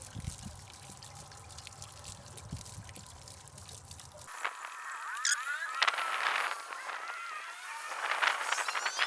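Water drains and trickles out of the plumbing of a Riverside Retro travel trailer being winterized, a steady low splashing flow that turns into brighter, louder dribbling and pouring partway through, with no talk.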